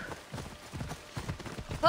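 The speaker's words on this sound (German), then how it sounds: "Rufen wir unser Pferd. Ella!" Rhythmic hoofbeats of a galloping horse in the video game Assassin's Creed Odyssey, steady and fairly close, with a short rising whistle-like tone at the very end.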